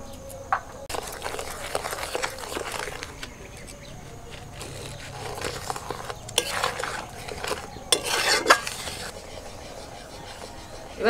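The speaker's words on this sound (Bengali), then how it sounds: "এবার হালকা আঁচে এইভাবে নাড়াচাড়া করতে হবে, অনবরত নাড়াচাড়া করে যেতে হবে" A utensil keeps stirring homemade tomato sauce with sugar and vinegar in a pan over low heat, making close, repeated scraping and swishing sounds with occasional light knocks against the pan.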